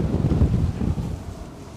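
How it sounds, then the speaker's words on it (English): Strong gusting wind at Edinburgh Airport, buffeting the microphone with a loud low rumble that eases slightly toward the end. "The wind is whipping up again, so this could get tasty."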